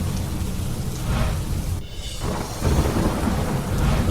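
Rumbling thunder rolls over a steady monsoon downpour in Himmatnagar, Gujarat, with a brief lull and then the storm noise surging back.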